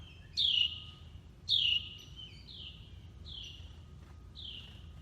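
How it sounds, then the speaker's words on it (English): A house finch chirps in short, bright calls, two sharp notes followed by three softer ones, evenly spaced over a low background hum. "There's our bird. Can you see it on the railing? There he is. There he is, our house finch."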